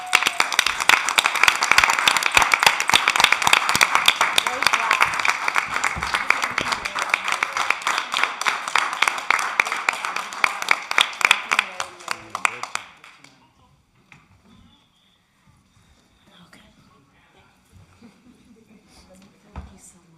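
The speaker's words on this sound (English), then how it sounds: "can we give her a round of applause?" A room at a village board meeting breaks into dense clapping for the departing mayor, loud and sustained for about twelve seconds before stopping abruptly, followed by faint murmurs and a few quiet voices.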